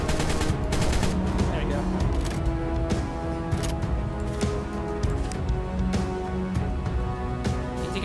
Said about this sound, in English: I love my assault rifle.